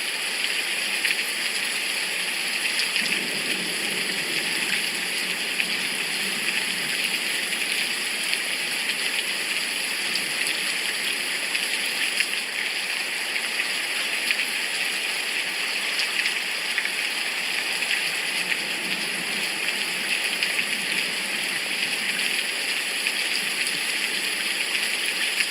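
Heavy rain falling on a very rainy day, a steady dense hiss of water with dripping, continuous and unchanging for the whole stretch, with no voices.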